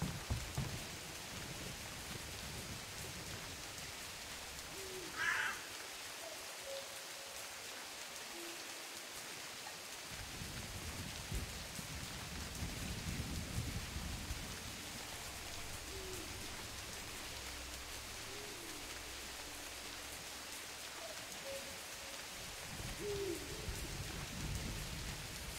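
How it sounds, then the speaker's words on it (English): Steady rain falls at night in the woods, a soft continuous hiss on leaves and ground with occasional faint distant rumbles, no voices over it. "how is it still raining?"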